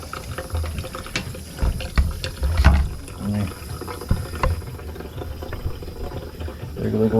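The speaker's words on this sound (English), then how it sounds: "Let me turn the water off" Water runs steadily from a tap near a tank, a continuous rushing wash with some clatter and faint background voices mixed in.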